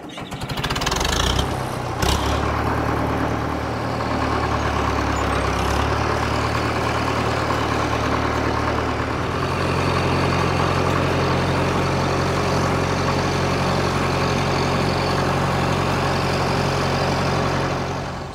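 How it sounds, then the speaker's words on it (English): A hay-field tractor engine starts up with a rough burst, then settles into a steady, loud, close idle at low RPM, droning evenly and unbroken with no voices over it. "we can only run this tractor at a really low RPM"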